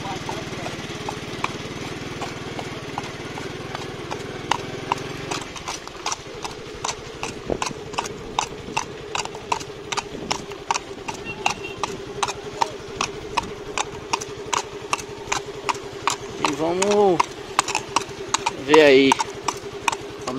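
A mare's hooves clip-clop in a steady walking rhythm, close and distinct, with an engine droning underneath and brief voices near the end.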